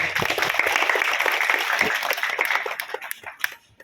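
Audience applause welcoming a guest at a community school awards function in Sandur, a dense burst of clapping that stays strong before thinning out near the end.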